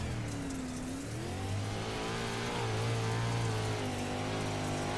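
A dirt track race car on an onboard lap at Husets Speedway roars with a continuous close engine drone, pitch rising and falling through the corners, loud and unbroken with no talk.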